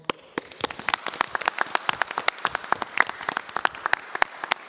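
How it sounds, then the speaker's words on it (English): Councillors at a council meeting give a short round of applause, with a sparse, uneven patter of claps from a small group lasting a few seconds. "I'd like to invite the councillors to give them a round of applause and an acknowledgement"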